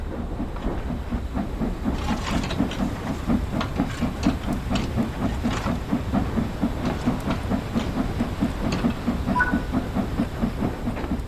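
Steam locomotive in a train simulator game picking up speed, with a loud steady rhythmic chuffing exhaust beat and hiss over rumbling wheels, close and continuous without talk.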